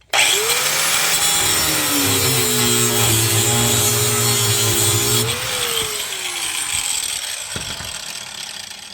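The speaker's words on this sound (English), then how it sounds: "I'm gonna go grab my cutoff wheel and just cut this nut and bolt off." A cutoff wheel grinds through a rusted tie rod nut and bolt on a Toyota T100 with a 3.0 engine, a loud sustained whine sliding in pitch as it bites, then winding down after about five seconds.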